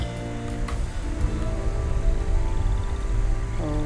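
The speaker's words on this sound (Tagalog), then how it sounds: "Ay, ulan na, sakto." Steady rain in the video game Red Dead Redemption patters on surfaces with a constant hiss, a few brief low rumbles underneath, no voices.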